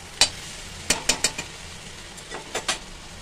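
A utensil stirs spicy bitter gourd and okra curry in a pan, with several sharp scraping clinks in an irregular rhythm over a soft, faint background sizzle.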